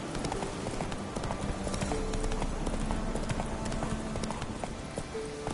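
A horse galloping in The Witcher 3 on PS5, rapid rhythmic hoofbeats clattering steadily and close throughout over faint game ambience.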